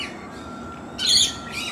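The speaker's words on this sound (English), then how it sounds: "the birds roost in this tree." A wild suburban bird in a roosting tree in Australia gives a sharp, loud squawk, followed by a shorter fainter call over a quiet outdoor background.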